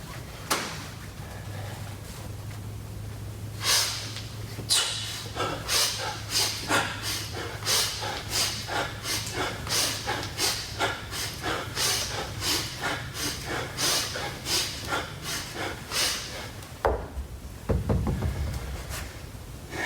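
Rhythmic breathing during kettlebell snatches, a long steady run of forceful, evenly paced exhales and inhales, close and loud, with a low hum underneath and a scuffing sound near the end.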